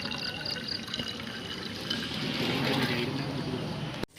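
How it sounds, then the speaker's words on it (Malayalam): Synthetic vinegar pours into a Pepsi bottle, a steady faint trickle of liquid that builds slightly toward the end before stopping abruptly. "ഇത് ഒരു അര ബോട്ടിലോളം സിന്തറ്റിക് വിനെഗർ ഒഴിച്ചിട്ടുണ്ട് ഇതിനകത്തോട്ട്."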